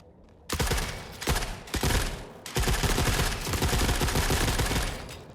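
An M60 machine gun fires in The Forever Winter, long loud automatic bursts with short gaps between them, the sustained rattle running to the end.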